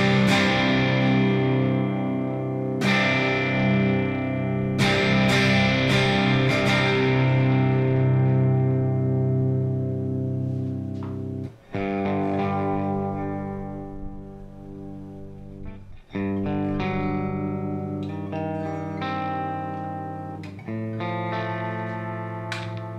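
Electric guitar run through a distortion effects pedal, ringing chords and sustained notes with a thick, saturated buzz, struck several times with brief pauses between.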